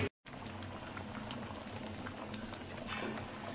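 Palak dal of lentils and spinach bubbling at a steady boil in a pot, a soft continuous simmering patter close by with no talk.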